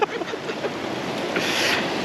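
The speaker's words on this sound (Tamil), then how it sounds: "சைடில் முன்னாடியே அப்படியே தண்ணி போகுது" River water rushes steadily over the Velliyur check dam on the Kosasthalai river near Thamaraipakkam, a broad wash of flow that builds slightly toward the end, with faint wind buffeting the microphone.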